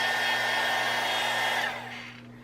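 A small handheld heat gun blows steadily at close range over acrylic paint on a cheesecloth-covered Christmas ornament, a loud even hiss with a faint hum that drops off sharply near the end.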